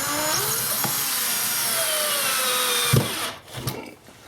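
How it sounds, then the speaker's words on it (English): A drill drives the top screw into a bracket, a steady close whine for about three seconds, then the motor cuts off, followed by a couple of brief clunks and handling noises. "using the square edge of the level, we will run in the top screw here"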